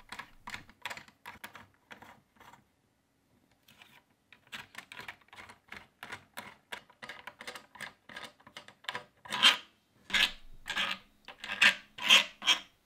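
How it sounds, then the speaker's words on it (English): Six bolts are removed with an Allen key from a Moza steering wheel, producing quick clusters of small scraping, clicking turns close up, with a brief pause and louder rasps toward the end, with no talk. "remove the 6 bolts with the included Allen key"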